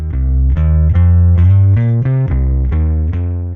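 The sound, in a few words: distortion effect with EQ taming low frequencies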